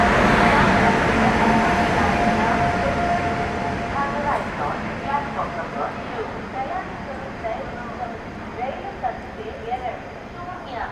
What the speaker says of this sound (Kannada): ಇದು ನಮ್ಮ Belagavi Bengaluru super fast express arrive ಆಗ್ತಿದೆ ಧಾರವಾಡಿನ ಪ್ಲ್ಯಾಟ್ಫಾರ್ಮ್ ನಂಬರ್